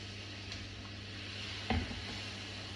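Spices and curry base for chicken chaat sizzle softly and steadily in a pan under a low hum, with one brief knock of a utensil partway through.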